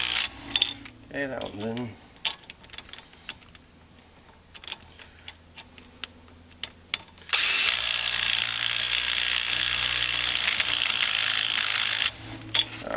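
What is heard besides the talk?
ratchet pulling wheel studs in on Polaris Sportsman ATV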